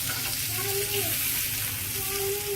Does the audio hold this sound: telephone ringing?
no